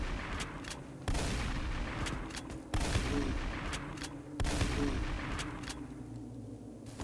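Heavy shotgun blasts in a video game, three loud booming shots spaced a second or two apart, each with a sharp crack and a lingering rumble, over background game noise.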